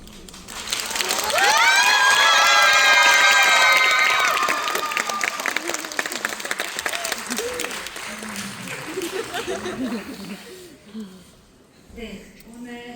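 A theatre audience at a post-performance talk applauds two choreographers: loud, dense clapping that swells within the first seconds, then gradually thins and fades while a host's voice continues over it.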